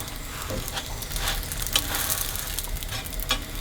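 Dhal puri flatbread cooks in a pan on gentle heat, giving a low, soft sizzle with occasional scraping and pressing noises close by.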